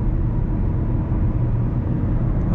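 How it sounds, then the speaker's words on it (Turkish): Steady broadband wind and road rumble fill the cabin of a Skoda Octavia 1.0 e-TEC sedan cruising at 100 km/h, an even, continuous low roar with no talking. "Bak 100'e geldik, rüzgar sesi başladı."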